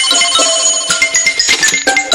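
A cartoon telephone rings in a loud, bright electronic tone, repeating in short quick pulses up close with no talk over it.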